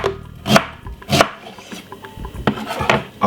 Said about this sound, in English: Remove the skin from the ginger and I'm gonna cut it up.